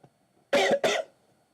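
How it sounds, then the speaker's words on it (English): A person coughs twice in quick succession, close and fairly loud, the two harsh bursts separated by a brief gap and then fading into quiet. "Forgive my cough."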